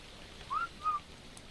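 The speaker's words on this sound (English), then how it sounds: "it usually flies to me if I whistle" Two short rising whistle notes sound in quick succession over faint ambient hiss: a player in the video game Ark Survival Evolved calling a flying creature.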